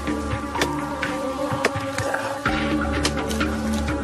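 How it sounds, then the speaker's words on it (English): Thousands of bees buzz inside a hive in rural Africa, a dense, steady drone close up with faint rustling over it and no talk. "See now, you can hear the thousands of bees in there."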